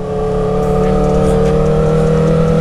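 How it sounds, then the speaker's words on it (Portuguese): A faired Repsol sport motorcycle's engine while riding gives a loud, steady, droning roar with strong harmonics, held at near-constant pitch throughout. "é a primeira vez que eu ando numa moto carenada assim"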